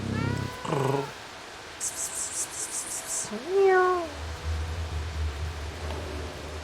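Cats meow in the video game Stray: a few distinct rising and falling meows near the start and middle, over low background hum and a brief hiss-like burst, fairly close and clear.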